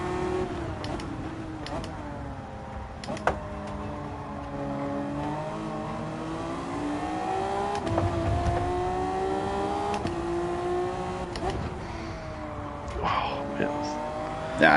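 Honda NSX engine in Gran Turismo 7 lobby racing, a steady droning note that climbs and shifts in pitch as it accelerates, running continuously at moderate loudness with a few brief knocks.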